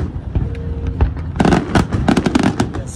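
Fourth of July fireworks burst over downtown San Diego in a dense, loud barrage of cracks and booms, close and overlapping, with crackling between the bangs.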